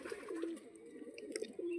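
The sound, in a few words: female pigeon cooing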